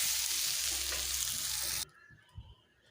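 Young jackfruit pieces with turmeric fry in oil, giving a loud, dense sizzle that cuts off abruptly partway through, followed by quiet handling sounds and a soft knock.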